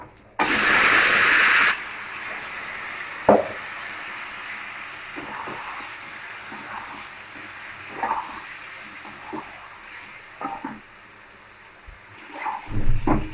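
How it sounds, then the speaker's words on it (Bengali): Meat dropped into a pan of lightly fried onions, giving a loud burst of hissing sizzle that settles into a steady softer crackle with occasional clinks and stirring knocks. "পেঁয়াজটা হালকা করে ভাজা হয়ে গেছে, বেশি ভাজবো না। এবার আমরা দিয়ে দেবো মাংসটা"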